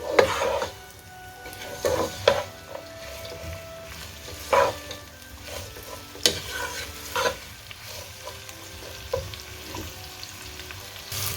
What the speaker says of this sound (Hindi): अनियन का कलर चेंज होने तक हम अनियन को फ्राई करेंगे।